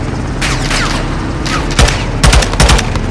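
Gunfire in Call of Duty Modern Warfare 2, with a steady rattling bed of distant shots that breaks into several loud, close bursts near the end. There is no talk.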